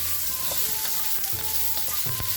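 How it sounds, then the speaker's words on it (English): Fresh carrots and asparagus saute fast in hot oil, giving a steady, close sizzle with occasional crackles and pops and no voices. "So there goes our carrots and our asparagus. It's a fast saute is all we're looking for here."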